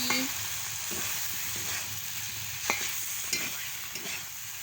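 Spinach being sautéed and stirred in a pan for a Bengali chochchori, a steady close sizzle with scattered spatula scrapes and clicks throughout, no talking.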